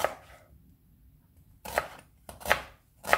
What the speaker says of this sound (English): Onions are all chopped.